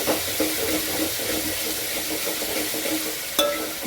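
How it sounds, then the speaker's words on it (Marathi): Continuous crackling sizzle of coriander frying in tempering oil, with occasional scraping stirs and one sharper clank near the end. "कोथंबीर पण आपण असे छान परतून घ्यायचे फोडणीमध्ये"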